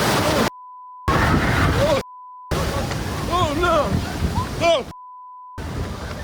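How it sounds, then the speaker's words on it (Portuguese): Ocean waves surge onto a beach in loud, continuous broadband rushing, cut by silent gaps with a steady beep, while shouting voices rise over the surf. "Quem gosta de observar ondas assim"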